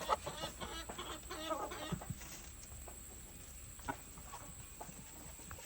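Battlecock laying hens clucking in short, scattered bursts from tiered cages at moderate distance, with a steady low background hum underneath.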